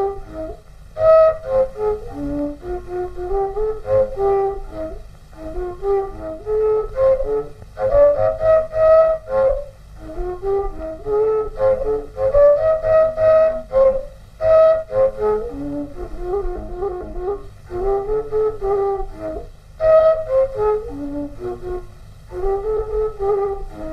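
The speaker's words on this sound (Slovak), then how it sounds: "Valašská píšťalka." Wallachian shepherd's whistle (valašská píšťalka), a Slovak folk fipple flute, plays a lively melody of clear, breathy tones with short rhythmic phrases, close and steady throughout with no voices.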